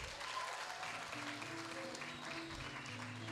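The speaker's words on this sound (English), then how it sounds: "give him a round of applause again" Faint, continuous clapping from a church congregation after a sung performance, heard at a distance under low background hum with some tonal sound threaded through.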